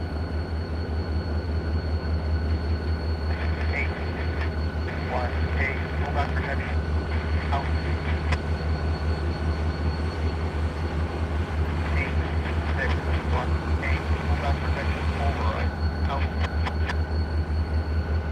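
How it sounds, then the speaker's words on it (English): Steady low rumble of a passing train with rhythmic clacking of wheels over rail joints, metallic squeals, and voices talking over it. "And our northbound train, Tony,"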